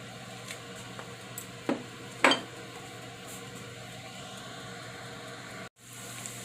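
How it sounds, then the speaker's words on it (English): Corned beef hash fries in a pan with a steady, soft sizzling hiss, broken by a couple of light utensil clinks against the pan. "It's frying really good."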